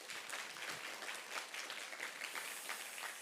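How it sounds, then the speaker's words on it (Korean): A church congregation claps in encouragement during a Sunday worship service, steady dense applause lasting throughout at moderate volume with no talk over it. "우리 식구들을 위해서 누군지 잘 몰라도 격려의 박수 한번 하십시다."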